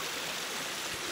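Stream water rushes steadily past a portable turbine, a faint, continuous hiss and gurgle of flowing water with no other sounds.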